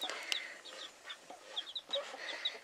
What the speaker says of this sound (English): those are the two little chicks